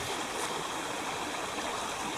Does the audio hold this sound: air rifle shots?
no